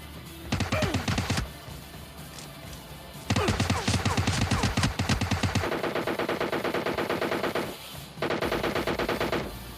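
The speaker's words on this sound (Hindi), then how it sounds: "भाई यहाँ से मुझे पड़ती है फायर" Automatic gunfire in PUBG Mobile Lite, loud rapid bursts of shots in three long volleys separated by brief pauses, with a steady rattle of rounds and no voices.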